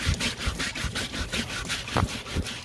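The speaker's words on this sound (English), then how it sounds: "This one I'm gonna have to use a Brillo pad, but it's coming off." A Brillo pad scrubs hard against a rusty chainsaw bar in quick back-and-forth strokes, a close, rhythmic abrasive rasping with no talk over it.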